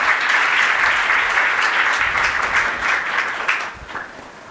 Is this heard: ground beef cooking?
no